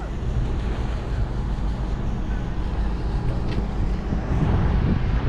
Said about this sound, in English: There's one now, a rib boat.